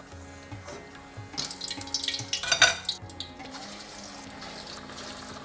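Zucchini koftas frying in oil, a soft bubbling sizzle with wet stirring and scraping that swells briefly in the middle, moderately close, no voices.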